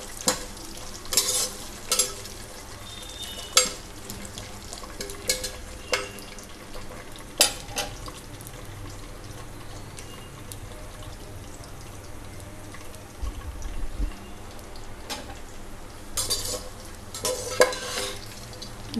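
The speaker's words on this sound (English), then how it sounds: "We have to fry them lightly until they turns into a golden brown color" Pistachios and raisins fry lightly in a pan with a soft, continuous sizzle, while a utensil sweeps and clinks against the metal in scattered bursts.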